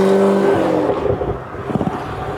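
A 900-horsepower Corvette ZR1 engine downshifting, a loud close roar that drops away, then a burst of sharp revs and crackles from the exhaust.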